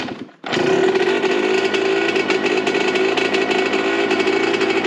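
A freshly rebuilt two-stroke dirt bike with a cold, dented exhaust pipe idles with the choke on, a loud, close, steady buzzing drone that kicks in after a brief dip and holds evenly throughout.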